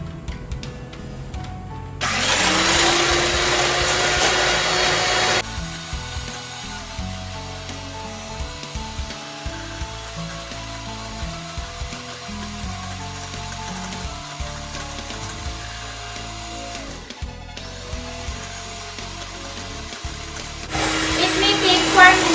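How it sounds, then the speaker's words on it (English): Electric hand mixer whirs through a cake ball mixture, with a loud steady motor drone at the start that settles into a lower continuous hum, then rises again near the end, close to the microphone. "we will stir all of this with a hand mixer"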